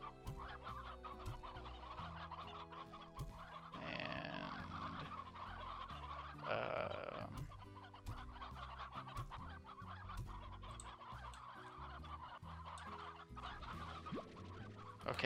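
Hens in the video game Slime Rancher cluck steadily over looping game music, with scattered clucks and a couple of louder bursts and no talking.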